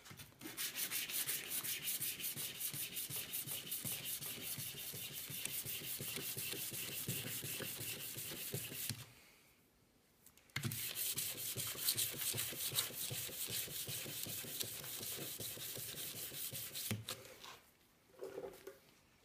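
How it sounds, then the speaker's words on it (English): Acrylic is sanded by hand in long steady rubbing passes, a close, even scratchy hiss that stops briefly twice before resuming. "And then it gets sanded."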